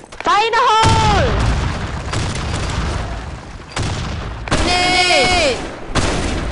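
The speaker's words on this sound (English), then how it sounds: "Grenade! Fire in the hole!" Grenade explosions from a video game sound pack land as heavy, booming blasts with rumbling tails. Shouted voice callouts ring out over the blasts at the start and near the end.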